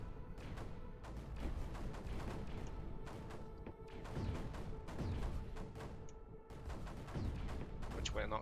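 Mortars fire repeatedly in the strategy game Creeper World 4, a quiet, busy patter of small thumps and bursts that overlap in a steady stream.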